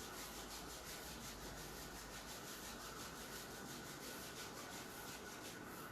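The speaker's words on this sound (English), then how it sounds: "Gently rub the palms." During a morning yoga session, palms are rubbed together in a steady, soft, continuous swishing friction sound, faint and unbroken, with no talking.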